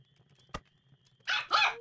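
A cartoonish virtual dog from the Nintendogs + Cats video game gives a quick yelp and then two short barks in close succession, clear and close over a quiet game background.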